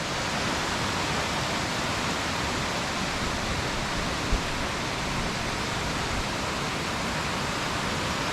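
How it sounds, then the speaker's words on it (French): A small waterfall in the Ourika valley near Marrakech rushes steadily, a dense even hiss of falling water heard close and alone throughout. "Et voilà sûrement, la première cascade, la cascadette."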